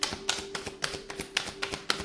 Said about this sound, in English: Let's do one last shuffle.